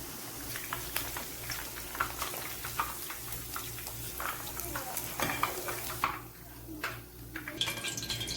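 Coated cauliflower frying in oil in a kadai, a steady low sizzle and bubbling running throughout with occasional light clinks, close and even in level.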